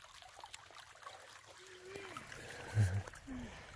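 A creek flowing along a trail in Dolly Sods during a spring backpacking trip: a faint, soft trickle and babble of water with a few light splashes and quiet background sounds.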